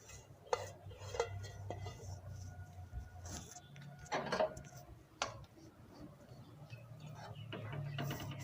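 Half a kilo of washed, dried sesame seeds dry-roasting in a kadai over a low gas flame, with faint, irregular clinks and scrapes of stirring against the pan and a quiet background.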